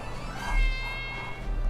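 A cat meows in a short meme clip: one drawn-out, fairly loud meow standing alone without talk.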